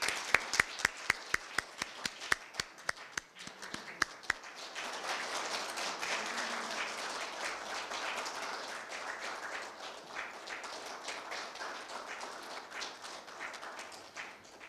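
Applause from an audience at a Korea University law school ceremony, opening with a few sharp, distinct claps that swell into steady, dense clapping from the crowd, held at moderate loudness without talk.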